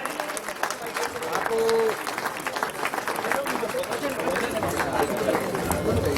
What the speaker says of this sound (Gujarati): જોરદાર તાળીઓ સાથે પુસ્તકનું વિમોચન થઈ રહ્યું છે અત્યારે.